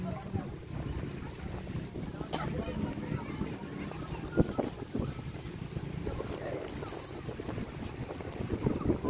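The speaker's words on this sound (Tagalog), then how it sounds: "Kasi lakas ng hangin." Strong wind gusts buffet the microphone at a beach, a rough rushing roar with faint surf beneath, while a person speaks briefly.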